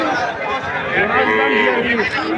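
A cow at a cattle market lets out a long, loud moo close by, its pitch rising and falling, with faint crowd murmur behind.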